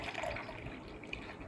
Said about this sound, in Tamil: அந்த எக்ஸ்ட்ரா இருக்கிற தண்ணியை வந்து நான் வந்து பிசைஞ்சு வச்சுருக்கிற அந்த ரசம்க்கு ஆட் பண்ணிக்கிறேன்.